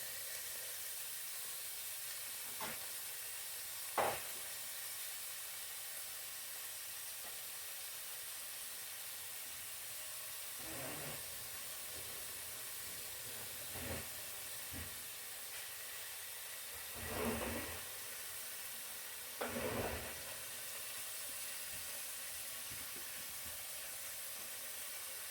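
A pot of chicken and potato soup steams and simmers on a stove, a steady broadband hiss running throughout with a few brief louder bursts of sputtering along the way.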